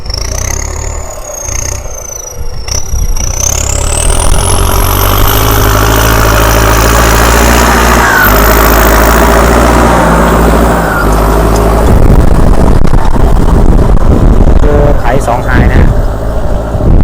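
A new car with red temporary plates runs close by, its stock engine idling steadily with a rising whine and loud, continuous rumble while people talk over it.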